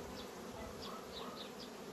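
Honey bees buzzing at a hive, a dense continuous drone close by with individual bees passing through the swarm hum.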